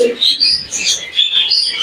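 Close, bright chattering chirps and warbles from a male budgerigar, a continuous twittering stream with short squeaky notes.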